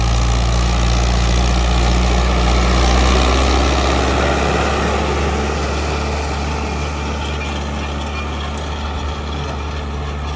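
An old Standard tractor engine idles loudly and close, a deep continuous rumble that eases slightly partway through and keeps running steadily to the end.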